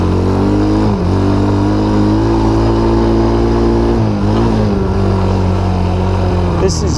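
A Baja Wilderness 90 minibike, converted to a three-speed semi-automatic with a smaller front sprocket and a slipping clutch, runs loud and close in second gear, its engine drone steady with small pitch dips as revs waver.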